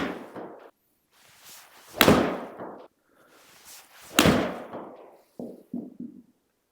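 Two sharp golf club strikes on a practice range, each a crisp impact followed by a fading rush, spaced a couple of seconds apart, with a few quieter knocks afterward.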